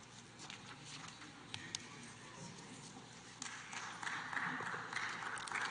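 Applause in a legislative session chamber, scattered claps building into a fuller round of clapping that swells toward the end, heard from a distance with faint voices underneath.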